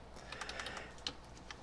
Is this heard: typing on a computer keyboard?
yes